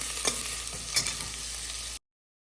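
Onions and salt are stirred in a cooking pot, a gentle sizzle broken by a couple of scraping spoon strokes, close and steady before cutting off abruptly.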